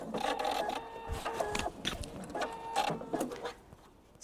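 A sewing machine backstitches a fabric thread catcher in short, close bursts of whirring stitches that run forward and back, with brief pauses between runs.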